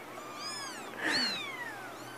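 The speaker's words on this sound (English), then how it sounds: "Whole bunch of kitties." Several small kittens meow close by, high thin overlapping cries rising and falling, one louder squeal in the middle.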